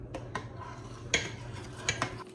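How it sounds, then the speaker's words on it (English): A utensil stirs wild turkey gravy thickened with flour in a pan, making soft, close scrapes and a few light metallic clinks at an irregular pace. "you want to stir that gravy until it's a little thick"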